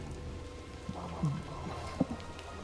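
Rain falls in the video game Valiant Hearts: The Great War, a soft, steady patter with a few faint heavier drops, heard alone and fairly quietly.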